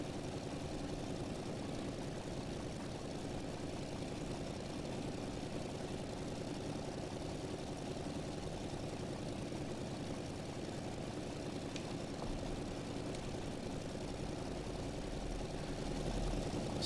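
The propeller engine of an F4U-1A Corsair in Flight Simulator X drones steadily throughout, a constant mid-level roar with no breaks.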